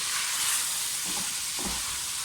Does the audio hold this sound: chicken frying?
yes